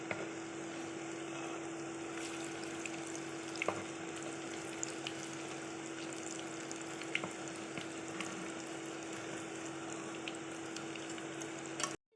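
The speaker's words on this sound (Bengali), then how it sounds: "ভাজা হয়ে গেছে উল্টে দেবো" Steady frying hiss from raw jackfruit kebabs cooking in hot oil, continuous throughout with a constant hum underneath and occasional small pops.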